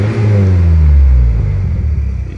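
A car engine revs hard right up close, a loud rising rumble that peaks and then settles back into a steady idle.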